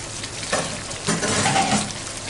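Covered chicken chaap cooking over a high flame, Kolkata style, gives off a steady close sizzle and frying hiss that swells twice, with faint bubbling and nobody speaking.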